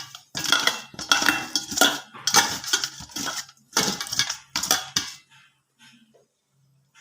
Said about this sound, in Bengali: আর মাছের নুন হলুদ মাখিয়ে নিচ্ছি আমি